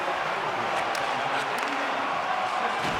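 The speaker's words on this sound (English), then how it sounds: "And the crowd's on their feet, saluting the team after a hard-fought effort this evening." Crowd noise in a hockey arena in the video game NHL 25 during a KHL match, a broad, sustained roar of cheering fans that runs continuously under a commentator's voice.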